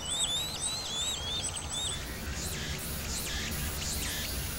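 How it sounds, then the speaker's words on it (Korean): A common cuckoo chick begs for food in a host bird's nest, giving a quick series of thin, high squeaky chirps, followed by a few fainter wavering calls over soft background noise. "먹이를 보채는 뻐꾸기의 소리도 더욱 요란해진다."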